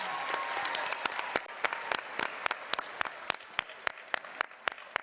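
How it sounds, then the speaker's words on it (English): An audience at Lake Braddock school applauds a sponsor at a NASA Mars 2020 rover naming event, a dense, sustained round of clapping with individual sharp claps standing out as it thins toward the end. "Give her a big round of applause."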